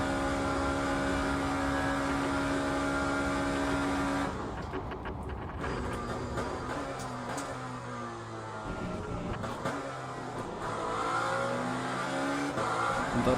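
Lamborghini race car engine in a racing video game, a loud sustained high engine tone that abruptly drops into rapid blips and downshifts, then climbs back to a steady roar.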